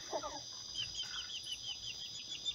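Chickens roosting at night cluck and murmur softly in short, repeated calls, close by over a constant high insect-like hum.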